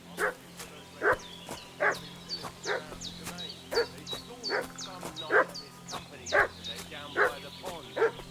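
Dog in the Kingdom Come Deliverance 2 video game barking repeatedly in a steady rhythm, about a dozen sharp barks over a low ambient hum with faint high chirping in the background.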